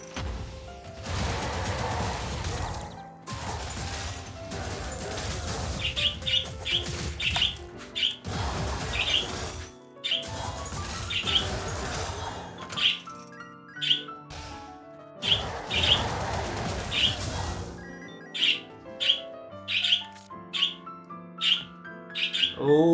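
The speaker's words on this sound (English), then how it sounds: "Oh, birds." Birds chirping outdoors, with rapid bright tweets and short calls repeating throughout, at first over a denser, noisy background and then standing out more clearly toward the end.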